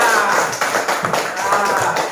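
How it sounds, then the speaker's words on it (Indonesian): Schoolchildren clap for a group of classmates in a classroom, loud, uneven patters of hands mixed with children's voices talking over them. "tepuk tangan buat kelompok 3"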